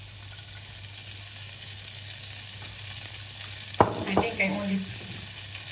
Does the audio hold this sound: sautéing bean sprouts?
yes